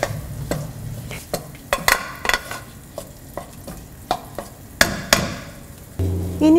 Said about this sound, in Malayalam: ആവശ്യത്തിന് സോൾട്ടും കൂടി ഇട്ട് കൊടുത്ത് നന്നായിട്ട് മിക്സ് ചെയ്യുക.